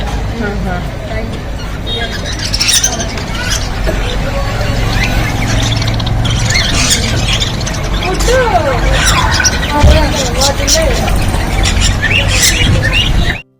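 Shrill lovebird squawks and squeals ring out repeatedly over a busy background of chatter and distant traffic at a bird shop.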